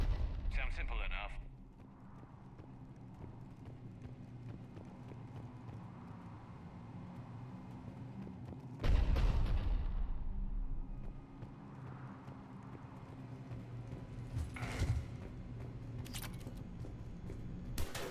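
Cannon fire in Mass Effect, a sci-fi shooter, lands as a single heavy booming blast midway through with a fainter report later, set over a steady low game ambience and background music, with voices talking at points.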